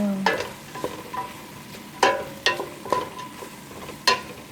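A spoon stirring bigos, the Polish hunter's stew with whole prunes, in a pot. A few distinct scraping knocks land at irregular intervals over a soft simmering background, close by and with no voices.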